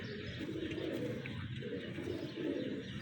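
A pigeon of a strong racing or flying breed coos in low, soft, repeated murmurs that run steadily throughout, heard close by.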